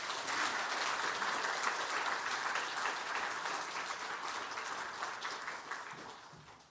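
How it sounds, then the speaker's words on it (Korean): A church congregation at an afternoon women's mission dedication service applauding to welcome a woman pastor, a steady wash of clapping from many hands that holds throughout and slowly fades toward the end. "박수로 환영하도록 하겠습니다"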